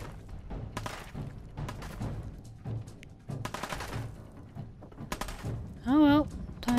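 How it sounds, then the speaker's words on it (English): Gunfire in Fallout 4 during a raider fight, scattered bursts of shots and thuds at mid distance, mixed with a person talking over them. "More shooting!"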